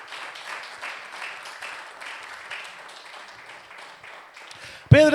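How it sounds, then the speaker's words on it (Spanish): A church congregation applauds during a Spanish-language sermon, a steady spread of moderate clapping that fills the room for about five seconds before a sudden loud burst at the end. "¿Cuántos pueden darle un aplauso al Señor?"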